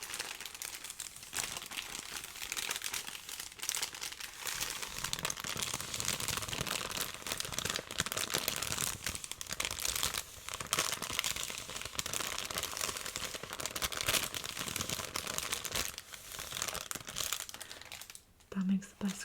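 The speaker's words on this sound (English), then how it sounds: "That makes the best crinkle sounds." Thrift-store tissue paper crinkled close up in an ASMR setting: continuous soft rustling and crackling that runs for the whole stretch, rising and falling with the handling.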